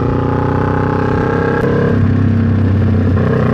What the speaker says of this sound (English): I don't like going deaf. So that's my only problem with this bike, is the exhaust